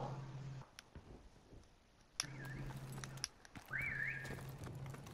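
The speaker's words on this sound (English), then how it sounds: "My god, I can hear the whistling" A thin, wavering whistle tone rises twice over a low steady hum and intermittent game sounds in Call of Duty: Modern Warfare Remastered Prop Hunt, fairly quiet and slightly distant.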